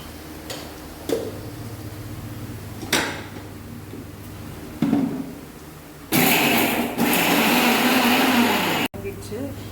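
A mixer grinder grinds masala spices for a kada gravy: a few knocks and handling sounds, then a loud, continuous whirring burst lasting about three seconds that cuts off abruptly.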